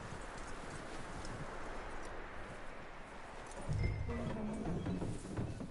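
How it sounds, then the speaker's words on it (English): A horse's hooves clop steadily at a walk in Red Dead Redemption 2, faint and distant under a soft ambient wash, with a low rumble joining near the end. "That looks like a decent horse. You should keep him."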